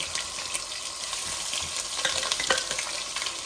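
Blended onion paste frying in a pan gives a steady, close sizzle with a few scraping stirs scattered through, and nobody speaks.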